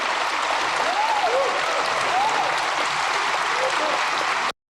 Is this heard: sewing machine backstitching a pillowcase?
no